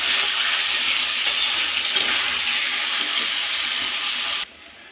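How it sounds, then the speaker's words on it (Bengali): Fried potatoes sautéed with spices in a pan, a steady bright sizzle with light stirring scrapes, loud and close, cutting off abruptly near the end. "ভেজে রাখা আলুগুলো দিয়ে দিলাম, এর সাথে একটু কষিয়ে নেব"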